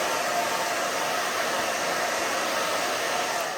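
A hair dryer blowing steadily on a pixie haircut with bangs, a loud, constant airy whoosh close by with no talking.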